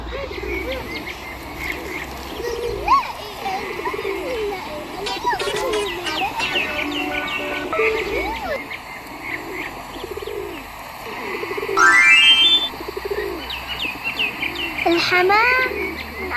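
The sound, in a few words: pigeons cooing at a bird garden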